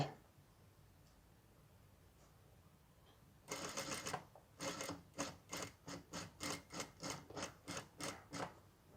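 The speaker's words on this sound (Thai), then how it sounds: "จากนั้นก็ค่อยๆ เย็บ ไปตาม ล่องเรื่อยๆ" A sewing machine stitches a jumpsuit seam, starting after a quiet pause with a burst of running and then settling into a steady series of short, rhythmic stitching pulses, close and clear with no talk.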